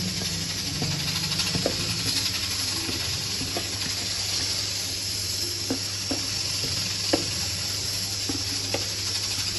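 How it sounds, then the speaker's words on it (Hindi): Rice tipped into a pot of boiling liquid for dal gosht and chawal gives a steady, close bubbling sizzle with scattered small clicks and splashes, and no voice is heard. "चावल डाल देते हैं इसमें, जोश आ गया।"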